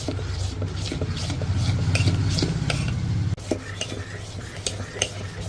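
Sweet paniyaram batter mixed with poured jaggery syrup is stirred in a bowl, giving a steady close scraping and sloshing with light clinks of a spoon against the vessel throughout.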